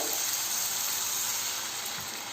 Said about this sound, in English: I'm adding little water.